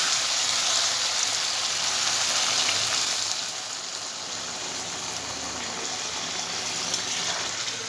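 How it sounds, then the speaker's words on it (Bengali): Water gushes steadily into a cooking spice paste in a pot, a continuous close pouring rush that eases slightly partway through. "এবার এর মধ্যে আমি জল দিয়ে দেবো।"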